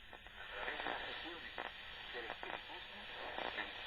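A Tecsun PL-680 shortwave radio tuned to 4.760 crackles and hisses with interference, a faint voice-like station buried under steady static and noise bursts.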